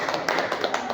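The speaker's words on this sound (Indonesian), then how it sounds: "Tepuk tangan buat Karen." A short burst of applause for Karen at a classroom discussion, a handful of people clapping in quick, uneven claps close by over about a second.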